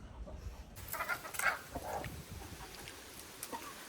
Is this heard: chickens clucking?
yes